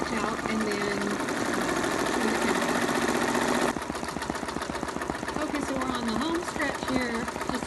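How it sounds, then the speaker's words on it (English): An embroidery machine hums and chatters in a steady rapid rhythm while stitching out a letter on a hat, running continuously and close by, with a voice talking over it. "So I'm going to let the rest of the letter stitch out"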